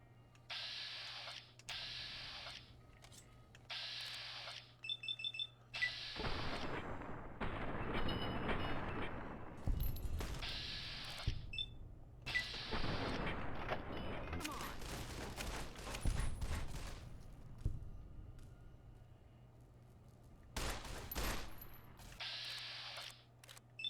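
Pistol gunfire in Fallout New Vegas on the road to the NCR Outpost, scattered sharp shots and crunching impacts in clustered bursts over a low steady hum, with louder volleys midway and faint game noises between.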